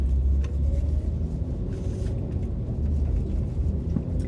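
Car driving on a mountain road, a steady low interior rumble of engine and tires, continuous and fairly loud with no talk.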